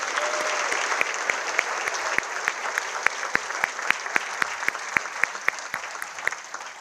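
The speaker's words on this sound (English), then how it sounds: "I would ask for a round of applause for these incredible volunteers." Sustained audience applause at a chamber of commerce annual meeting, a crowd clapping evenly throughout, with one nearby clapper's sharp, regular claps standing out above the rest.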